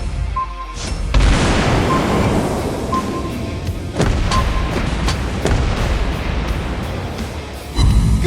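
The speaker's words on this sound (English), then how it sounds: "We're hit! Enemy torpedoes spotted!" Torpedo hits striking a ship in World of Warships, a Tier X Cristoforo Colombo battleship: dense, loud rumbling booms and thuds that pile up over sustained low battle noise, with sharper impacts around the middle and a heavy final burst.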